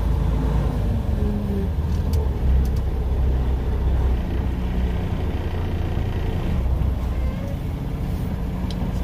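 A truck's engine idles and rumbles steadily at low pitch, close and loud throughout while being backed in, with no clear beeping or speech above it.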